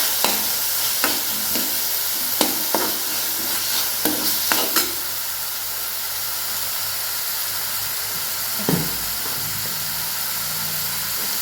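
Chopped tomato and onion fry in a pan, giving a strong, steady sizzle with a few sharp stirring scrapes early on, then a quieter, even hiss, close up and with no voices.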